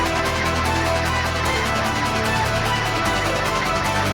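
Unprocessed bass guitar from a modern metal mix plays alone, loud and steady, with a thick, dense low-end tone and sustained notes shifting pitch partway through before cutting off at the end.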